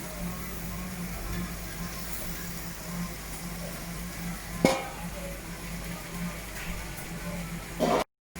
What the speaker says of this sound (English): Now we'll add a little extra juice that was left over.